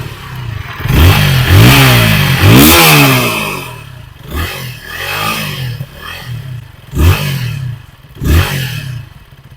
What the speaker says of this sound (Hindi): इसका एग्जॉस्ट नोट कुछ इस तरह है।